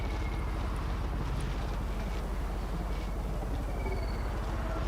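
Steady, droning engine rumble from vehicles in the building game Scrap Mechanic, a continuous low mechanical hum with a faint rhythmic chug, unbroken and without talk.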